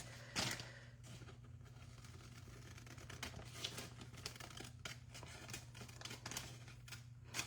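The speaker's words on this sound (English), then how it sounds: "Let's just trim that bottom edge a tiny bit." Scissors trim the bottom edge of a sheet of rice paper for decoupage onto furniture, making a series of soft, crisp snips in quick succession, close but faint against a steady low hum.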